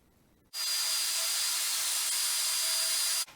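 A power sander whirs steadily against a wooden lazy Susan, starting abruptly with a loud, even hiss and stopping just as suddenly about three seconds later.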